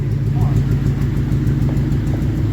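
Deep, loud rumble of a straight-piped V8 Toyota Sequoia exhaust, a steady low throbbing drone close by without a muffler, holding constant throughout.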